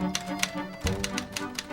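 Manual typewriter keys strike in a quick, uneven run of sharp clacks, with a heavier thunk partway through, close and clear with no voices.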